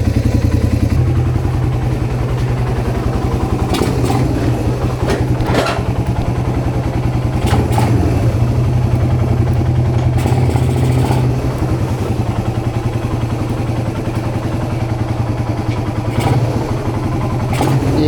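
A Suzuki Raider 150 motorcycle engine idles steadily while warming up, a close, continuous mid-pitched putter with rattly clatter and a few brief blips throughout.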